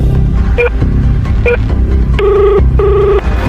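A telephone rings over a loud steady hum: two short chirps, then two longer electronic rings, evenly spaced and close by.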